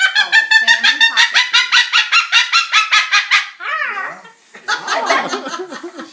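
Salmon-crested cockatoo lets out a loud, close run of rapid, harsh screeches in a steady pulsing rhythm, then a few shorter ragged squawks.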